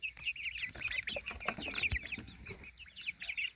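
Chickens clucking and chattering nearby in a busy, continuous flurry of short calls, with some faint shuffling underneath.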